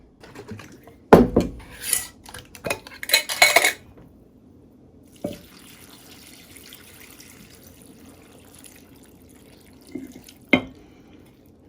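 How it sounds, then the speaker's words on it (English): Water is poured into a pot over cabbage, with clattering pot contact, a splashing burst of pouring, then quiet stretches broken by a few sharp clanks. "I'm just going to pour enough until I can see that the water is just almost to the top of the cabbage"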